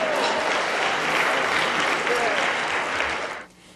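A live audience claps at a motivational speaking event, a dense burst of applause filling the room for about three seconds before quickly tapering off.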